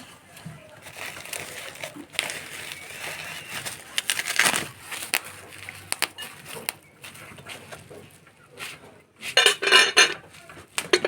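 Newly bought, heavy serving dishes are picked up and set down, giving irregular bright clinks and clatters, close up, with soft handling rustles and a brief burst of sharper chinks near the end, while someone talks quietly.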